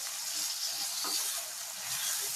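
Onions and green chillies frying in hot oil, a continuous even hiss of sizzling that holds steady and close throughout the short stretch.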